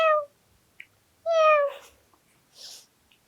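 A child imitates a cat, giving two clear, drawn-out meows separated by a short pause, followed by a brief softer breathy sound, close and loud with no other voices.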